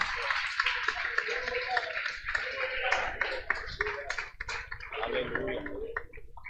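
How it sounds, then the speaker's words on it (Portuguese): Congregation clapping in a church to welcome the pastor, irregular hand claps and taps from a modest group, fairly close, mixed with voices calling out. "vamos receber o nosso pastor com aplauso"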